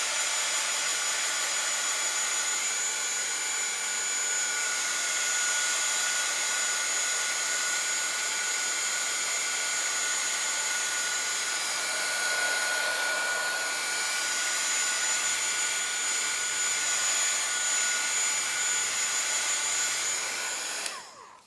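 A hand-held dryer blows hot air to speed-dry paint on a junk-journal background, a steady, loud, continuous whooshing hum lasting the whole stretch with no speech.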